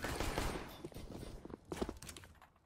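Rapid pistol shots crack back and forth during a Counter-Strike: Global Offensive match, a brief burst of gunfire with quick footsteps, fairly faint under the game mix.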